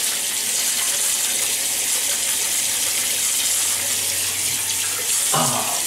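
Tap water runs and splashes steadily as hands wet a face before shaving at a bathroom sink, a continuous broadband gush with a brief louder splash near the end.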